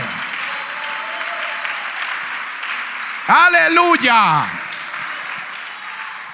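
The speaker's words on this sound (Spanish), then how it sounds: "Démosle fuerte ese aplauso al Señor" A church congregation applauds God during a Spanish-language sermon: steady crowd clapping runs throughout, while a voice shouts loudly over it partway through.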